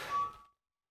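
A mobile phone notification chime rings out once as a short, clear, bright ding that fades away within half a second, followed by silence.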